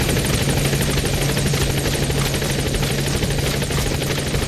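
A support helicopter in Metal Gear Solid V arrives as a loud, steady rotor thump with a constant buzzing drone, close and unbroken throughout, with no talk.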